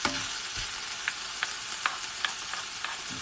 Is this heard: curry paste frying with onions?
yes